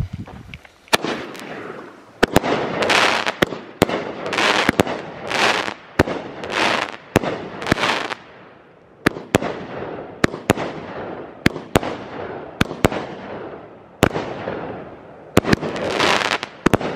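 A 30-shot Outlaw Pyro Black Sunday firework cake fires a rapid series of loud, sharp bursts and crackles, each shot followed by a fizzing tail, keeping a steady irregular rhythm through the whole stretch with no talking.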